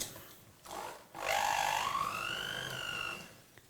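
A mixer creaming butter and sugar for biscuits, whirring up to a loud, rising motor whine that holds for about two seconds before winding down.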